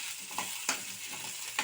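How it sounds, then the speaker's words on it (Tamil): Bitter gourd sautéing in oil in a pan, with soft continuous sizzling and a few sharp scraping stirs of a spatula at close range, no voices. "நல்லா வதக்கிக்கிறேன்."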